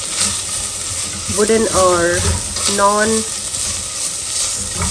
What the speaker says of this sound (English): Let's add our tomato and fresh coconut and saute it for about 3-4 minutes and mix everything together well.